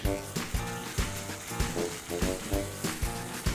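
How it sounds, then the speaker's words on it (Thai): Chili paste for nam prik long ruea stir-frying in a hot pan, with a steady sizzle broken by repeated rhythmic scraping and stirring strokes, close and fairly loud. "เมื่อกระทะเราร้อนได้ที่นะครับ ลงไปผัดเลย น้ำพริกลงผัดนะจ๊ะ"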